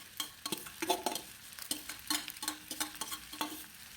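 Rice vermicelli (bihun goreng) is stirred and fried in a pan. A spatula makes a series of sharp, irregular scraping strokes over a low sizzle, close and fairly loud, with no speech.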